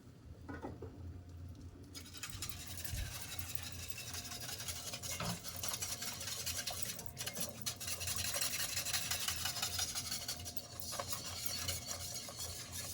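Garlic-infused milk being stirred into a mac and cheese roux, a continuous soft scraping and bubbling patter close by, fairly quiet and steady with no voices.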